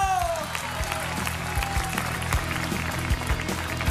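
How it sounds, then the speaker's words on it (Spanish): A studio audience claps at The Voice blind auditions, a steady crowd applause layered over a rhythmic band playing underneath, continuous from start to end. "¡Fuerte aplauso para ella, por favor!"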